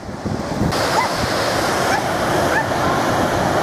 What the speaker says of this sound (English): There's plenty spilling over the dam wall.